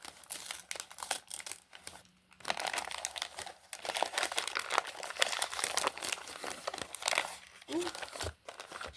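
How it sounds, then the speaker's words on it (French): Gift wrapping paper crinkling and tearing open in steady bursts for several seconds, fairly close, with brief pauses between rips and someone talking at times over the rustle. "avant que j'ai fini d'ouvrir le papier cadeau"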